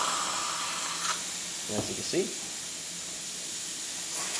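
Steam wand of a vintage La Pavoni lever espresso machine hisses with broad, steady, fairly loud noise throughout, while someone speaks briefly over it.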